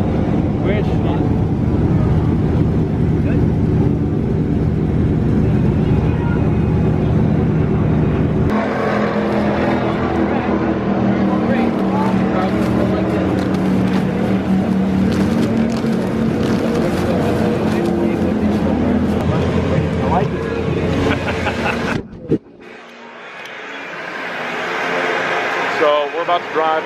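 A car drives on a NASCAR oval, its engine droning loudly with gear changes and road roar, wind buffeting the cabin as occupants talk over it, then the sound cuts abruptly and a rising engine note returns.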